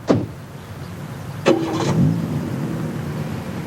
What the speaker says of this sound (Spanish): En esta película publicitaria, el esposo va en coche al trabajo.